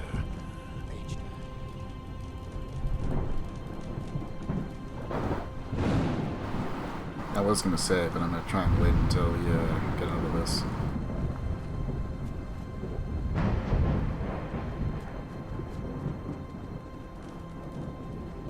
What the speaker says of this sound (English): No, I have to wait until like the storm's done or something.